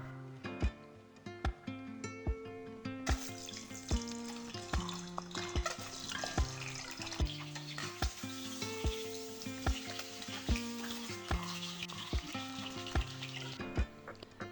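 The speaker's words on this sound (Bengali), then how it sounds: "কড়াইয়ে তেল দিয়ে দিলাম তারপর ডিমগুলো এই সর্ষের তেলে আমি ভেজে নেবো" Eggs fry in mustard oil in a wok, giving a steady sizzle and crackle with sharp clicks of a utensil against the pan, close and alone without talk.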